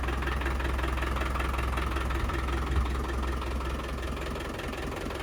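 A 1998 Land Rover Defender 110 with a 300TDI turbo diesel idles indoors in a garage, a steady, close, rattling diesel clatter with a deep low rumble that holds evenly throughout.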